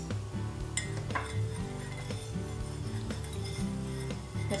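Milk and vanilla extract being mixed in a dish with a utensil, giving small repeated clinks and scrapes against the dish at close range over a steady background.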